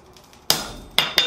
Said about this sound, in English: Really drive it all the way down until you hear it hit the anvil top